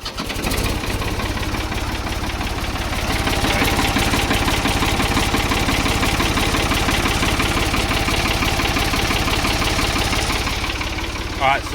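A Ford 3600 tractor with a power steering fault cranks and starts, then idles loud and steady with a rhythmic diesel knock throughout.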